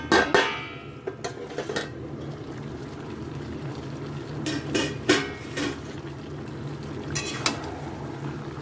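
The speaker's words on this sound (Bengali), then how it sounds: "এখন আমি চাপাটা নামিয়ে" Metal lid lifted off a cooking pot of mutton, with clanking and scraping knocks of metal against metal over a low simmering background.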